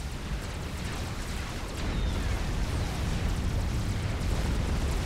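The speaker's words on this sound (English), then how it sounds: "starts firing those massive twin-mounted photon cannons." Heavy rumbling blasts and explosions from a megalith firing twin-mounted proton cannons in a Supreme Commander custom 6v6 match, a dense continuous roar of booming impacts that swells slightly louder halfway through.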